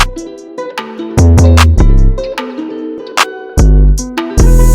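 A programmed 808 bass pattern shifted up an octave inside a hip-hop beat, loud pitched bass hits repeating in a bouncy rhythm alongside drums and melodic layers, with no voices.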